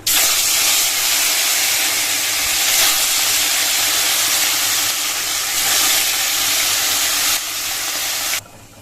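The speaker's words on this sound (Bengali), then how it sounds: "এবার হচ্ছে মাছ ভাজবো।" Fish frying in hot oil, a loud continuous hissing sizzle that holds steady for several seconds, close up with no voices.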